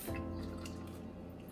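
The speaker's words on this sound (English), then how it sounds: "I'm just gonna push these leaves down in there" Wet squelching and dripping of brine as cabbage leaves are pressed down into a container for sauerkraut, a steady low hum running underneath.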